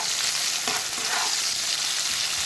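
Onion, garlic and dried fish frying in a pan give a loud, dense, steady sizzle up close, a constant hiss with faint stirring underneath and nobody speaking.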